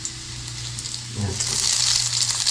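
Onions frying in a pan: a low steady hum gives way after about a second to a bright, broad sizzle that swells and holds continuously to the end, close and fairly loud.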